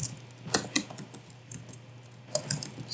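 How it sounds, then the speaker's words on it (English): Typing on a computer keyboard, light clicks in two short clusters with quiet gaps between, close and soft over a low background hum. "let's type in position."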